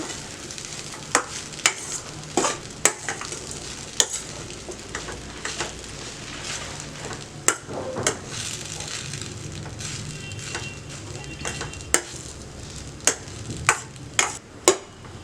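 Egg idli upma stirred in a pan over low flame, with a steady soft sizzle and a run of sharp spatula scrapes and taps against the metal, close and clear, with no talking.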